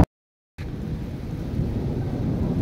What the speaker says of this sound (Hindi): बहुत ज़्यादा बारिश आ गई है। ये देखिए, मौसम मज़ीद ख़राब तर होता जा रहा है, बिजली चमक रही है।